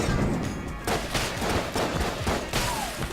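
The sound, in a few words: gunshots in the video game Enter the Gungeon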